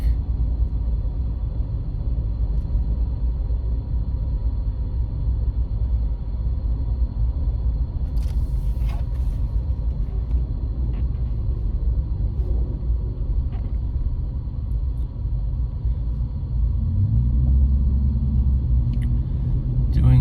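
A car crawls through heavy highway traffic on Interstate 278, heard from inside the cabin as a steady low engine and road rumble with no breaks, and a few faint clicks.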